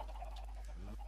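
Minecraft chickens clucking softly on an automatic chicken farm, a few faint, brief clucks close by over a steady low hum, with no talking.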